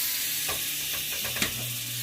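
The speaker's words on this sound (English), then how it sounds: "I put my butter into a super hot pan, and I'm making a mess" Butter sizzles and spits in a super hot frying pan, a steady frying hiss with a few sharper crackles and stirring scrapes, close by with no talking.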